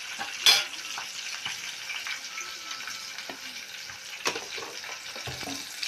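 Ginger fries in a pan with browned onions, a soft steady sizzle broken by a few scraping stirs and clinks, with no talking.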